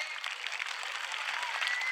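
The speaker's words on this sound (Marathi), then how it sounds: "एकदा जोरदार टाळ्या वाजवा यांच्यासाठी" An audience claps steadily for students at a school prize-giving, a dense, even patter of many hands that keeps going from start to end with no voices over it.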